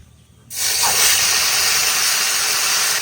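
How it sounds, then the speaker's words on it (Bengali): Bay leaf and cumin seeds hit hot oil for tempering in a Bengali kitchen, bursting into a loud, close, sustained hiss after a brief quiet start. "ফোড়নে দিয়ে দেবো তেজপাতা আর জিরে"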